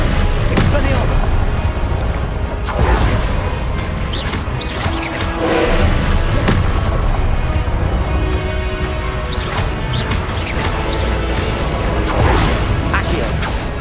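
Spell combat in the video game Hogwarts Legacy, an Expelliarmus disarming spell among a busy stream of whooshes, crashes and impacts, loud and continuous, with a voice calling out under the effects.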